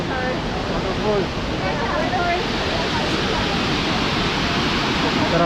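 Shifen Waterfalls in Taiwan rush in a dense, steady roar of falling water, loud and continuous, with faint voices partly buried beneath the noise.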